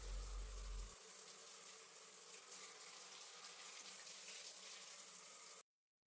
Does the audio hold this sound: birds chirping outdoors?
no